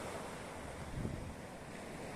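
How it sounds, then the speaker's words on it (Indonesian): Gentle ocean waves wash onto Sundak Timur beach in Gunung Kidul, a faint, steady surf roar with wind noise and no talking. "Kali ini ombaknya tidak terlalu besar"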